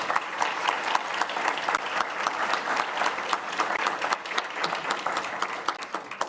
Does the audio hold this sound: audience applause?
yes